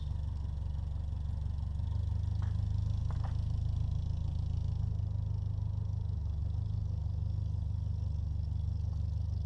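A Bugeyed Sprite with an automatic gearbox idles steadily, its low engine rumble constant and close throughout, with a couple of brief mechanical clicks partway through.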